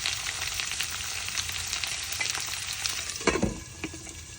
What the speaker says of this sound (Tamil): இந்த வெங்காயம் உள்ளி கடுமையாக வதங்கினா கரைஞ்சி போயிடும்